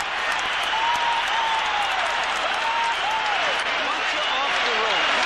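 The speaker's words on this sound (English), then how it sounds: "The end of round 7, the crowd on its feet." A boxing crowd on its feet applauding and cheering at the bell ending round 7, a steady dense roar of clapping and shouts with whistles rising above it throughout.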